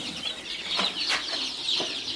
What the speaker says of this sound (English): Here is a whole bunch more Silkies.